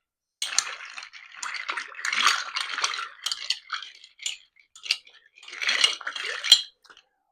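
A Black Russian-style cocktail made with tequila, a Brave Bull, being stirred in a glass, with close, bright clinks and tinkles of spoon and ice coming in irregular bursts against silence.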